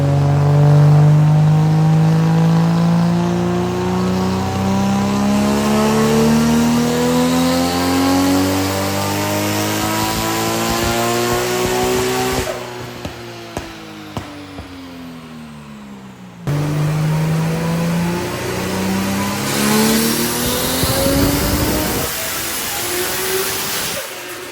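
A Nissan Skyline R34 GT-R engine on a dyno revs repeatedly, pitch climbing steadily through the rev range, dropping off, then roaring back up again, loud and close.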